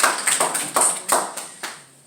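A small church congregation at an anniversary service claps in slow, distinct beats, about eight separate claps evenly spaced and gradually fading, close and fairly clear.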